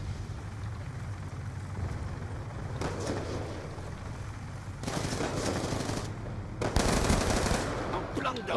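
Automatic gunfire in the video game Black Ops 2 rattles in short bursts over a steady background drone, with louder, denser volleys toward the end.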